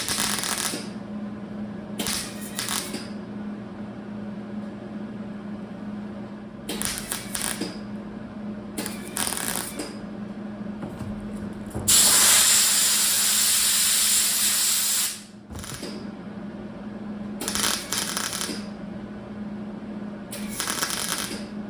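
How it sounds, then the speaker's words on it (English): Short bursts of MIG welding crackle and hiss as a patch is welded onto the roof of a 1965 Mercury Comet Cyclone, repeated buzzing runs of a second or two with pauses between, plus one longer steady hissing stretch. "I'm gonna finish up these welds all the way around,"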